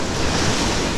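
Surf rolls and breaks continuously onto a beach during a beach fishing session, with frothy water near a sandbar drop-off. It is a loud, steady wash of surf with some wind noise on the microphone.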